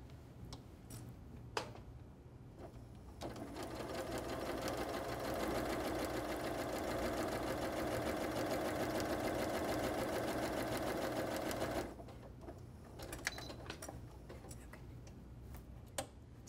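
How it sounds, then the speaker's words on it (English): A sewing machine stitches a skirt side seam, its motor running in a steady, fast rattling whir for several seconds, with quieter ticking and handling before and after. "We're going to sew at that 1/2 inch mark for our seam allowance and sew all the way"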